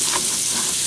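Strips of bacon sizzle and fry steadily in a pan, a loud, continuous crackling hiss close up with no voices over it.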